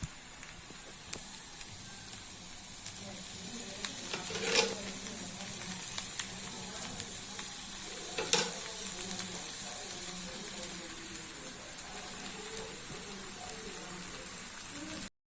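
Cassava adai sizzles softly in oil on a pan after being flipped, a faint continuous frying hiss with a couple of brief utensil clicks, while someone speaks quietly.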